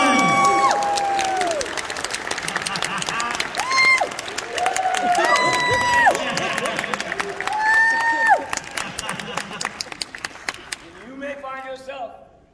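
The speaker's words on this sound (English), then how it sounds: "One more round of applause." A convention crowd at a fan expo panel in St. Louis applauds and cheers loudly and steadily for a guest coming on stage, with shouts and whistles mixed in before the noise thins out near the end.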